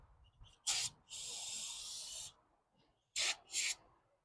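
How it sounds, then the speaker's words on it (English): Short hissing bursts of brake cleaner aerosol spray on a car's brakes, one longer steady spray in the middle, then two more quick blasts, close and loud. "spray some brake clean on it"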